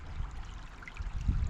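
A dog wades through a river in the woods, with soft water trickling and splashing around her legs in a faint, steady wash, low in level and close by.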